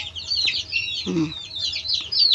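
Hens and young chicks cluck and peep in a backyard coop, a steady chorus of high chirps running throughout with a lower hen cluck near the middle, close and fairly loud.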